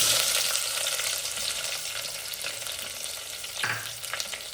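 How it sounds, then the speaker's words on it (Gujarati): Onions hit hot oil already spitting with curry leaves and mustard seeds, setting off a loud, dense, continuous sizzle that stays close and steady. It eases slightly and then flares with a brief stir near the end. No voices are heard. "હવે તો આપણે મસ્ત મજાને નાખી દઈશું ડુંગળી."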